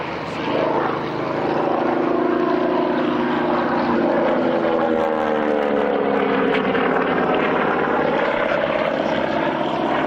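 A propeller aircraft flies past at a 1999 airshow, its droning engine loud and steady throughout, with the pitch shifting as it passes.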